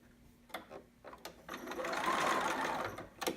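A sewing machine runs a gathering stitch on a garment, starting after a few soft clicks and handling sounds and then whirring steadily and close for about two seconds before stopping; no one speaks.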